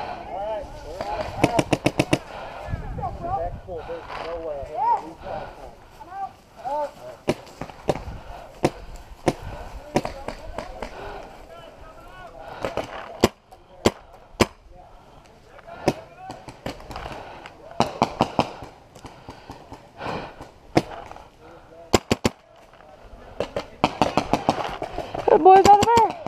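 Video game gunfire in bursts of rapid automatic shots and single cracks, loud and scattered across the clip, with players talking over it.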